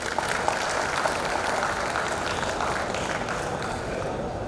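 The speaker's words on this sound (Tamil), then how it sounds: "அதுக்கும் ஒரு கரகோசை கொடுக்கணும்" A crowd claps steadily and warmly at a building inauguration ceremony in Kasi, the applause dense and sustained throughout without a break.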